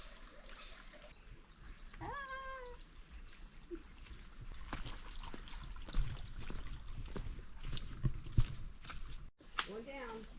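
Stream water trickles softly and steadily at a jungle trail crossing in botanical gardens on Roatan, Honduras, with faint rustling and movement nearby.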